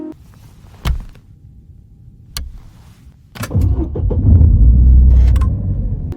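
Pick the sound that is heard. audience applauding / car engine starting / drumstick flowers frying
car engine starting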